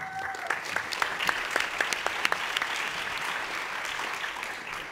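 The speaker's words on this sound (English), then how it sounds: "Give a big round of applause, please." Applause from a summit audience for the final startup pitch at a social good challenge; brisk, steady clapping from a crowd, with a few louder individual claps, fills the whole few seconds.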